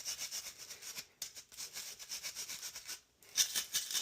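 A bristle brush scrubs a deteriorating, clogged heat exchanger on a second-generation ICP furnace during maintenance, giving close, steady rasping strokes in two bursts separated by short pauses.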